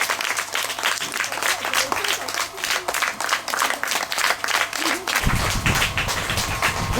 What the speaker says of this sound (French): Applaudissez la compagnie Action d'Amour.